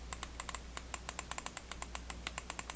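The left and right switches of a Titan GX Air wireless mouse, with high click pressure, produce a quick run of crisp, quiet clicks, close and sharp, in irregular rapid succession with no talk.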